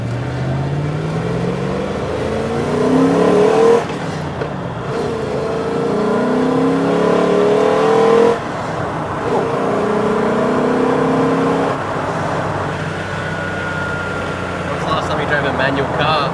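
A manual V8 car with a Z32 gearbox, not turbocharged, revving hard as it pulls through the gears: rising engine pitch sweeps cut off by shift breaks, loud and close from inside the cabin, with occasional talk over it.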